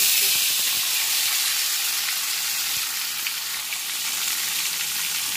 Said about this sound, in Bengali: আলুগুলোকে একটুখানি ভাজবো।